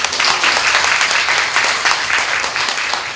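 An audience applauds at an event for a woman stepping up to speak, a steady, fairly loud wash of many clapping hands lasting a few seconds.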